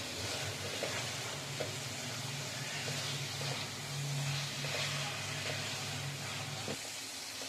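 Prawns and green chillies cook in a spice paste for a prawn malai curry, giving a steady close sizzle with a low hum beneath and a few soft scrapes of stirring.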